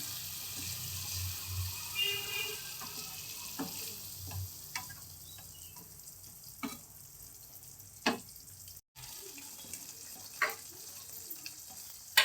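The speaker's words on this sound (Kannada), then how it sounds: "ಇವಾಗ ಪಾಲಕ್ ಸೊಪ್ಪು ರುಬ್ಬಿರೋದನ್ನ ಹಾಕ್ತಾ ಇದ್ದೀನಿ" Ground spinach paste goes into a hot pan for palak paneer, setting off a steady, close sizzle broken by scattered scraping and tapping from stirring, with no one talking.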